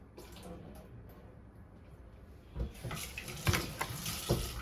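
Water being drained from washed chicken in a home kitchen, a soft steady trickle at first, then louder splashing and pouring with a few knocks near the end.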